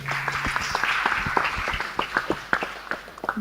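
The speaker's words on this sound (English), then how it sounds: "Round of applause." A conference audience claps for a few seconds, a scattered round of close, uneven hand claps with a faint voice early on.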